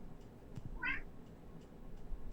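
A pet cat gives a single short, clear meow in a quiet room indoors, faint and somewhat distant, amid low background hiss.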